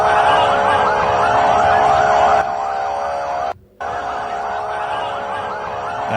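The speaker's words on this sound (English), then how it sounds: "That's just ambulances moving around." Ambulance sirens wail loudly and continuously with a rising and falling tone, cutting out briefly once before resuming.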